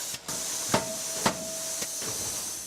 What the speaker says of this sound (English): it's a hammer press. So that's a hammer that actually comes down like a hammer and actually pounds it 3 times into roughly the shape of a golf club